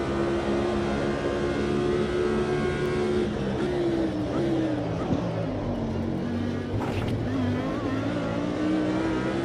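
Race car engine in the Automobilista 2 sim racing game at Sebring, revving and shifting continuously with rising and falling pitch while the car bumps over a curb, loud and steady throughout with faint speech in the background.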